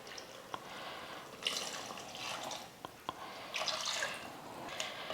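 Water trickles and splashes into a biryani pot of basmati rice, a faint light pouring with soft drips and small splashes, fairly quiet and close.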